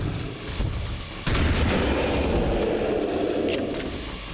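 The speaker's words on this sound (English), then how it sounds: "Point blank. With a shotgun." A point-blank shotgun blast in XCOM 2 lands as a sudden loud boom with a long rumbling tail, following a fainter shot earlier over game background sound.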